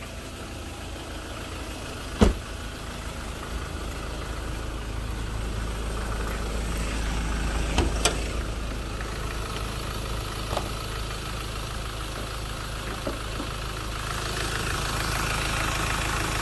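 A 2016 Mazda BT-50 with a 2.2 turbo diesel idles steadily in a low, even rumble with a faint clatter, heard close and alone, broken only by a few light knocks.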